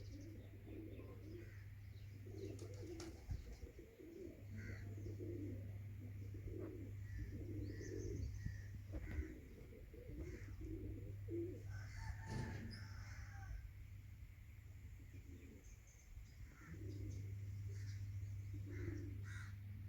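Pigeons cooing around a rooftop loft, with crow-like caws and other bird calls mixed in over a steady low background hum, soft to moderate and fairly close, no speech.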